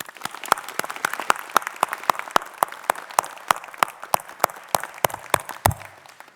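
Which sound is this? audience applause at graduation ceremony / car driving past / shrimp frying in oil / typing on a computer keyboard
audience applause at graduation ceremony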